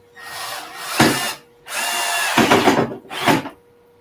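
A power drill drives screws into wood in three separate runs, each a loud close whirring burst that bogs slightly as the screw bites, with short pauses between them and no talk.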